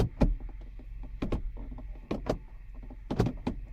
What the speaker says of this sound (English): Now what you hear on the other side is just the doors unlocking and locking.